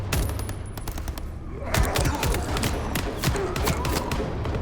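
Rapid bursts of automatic gunfire in the video game Vampire: The Masquerade - Bloodlines 2 crackle continuously, dense and loud, with sharp repeated shots and thumps layered over a busy, chaotic soundscape.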